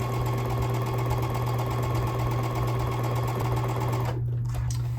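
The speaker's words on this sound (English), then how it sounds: "I'm just feeding them all through my machine the same direction." A sewing machine stitching quarter-square quilt triangles of green fabric runs steadily and loudly up close in a continuous whir, then stops abruptly near the end.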